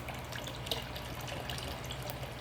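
Hydroponic nutrient solution is poured into a water reservoir in a basement garden, making a steady, continuous splashing trickle that runs close and even throughout.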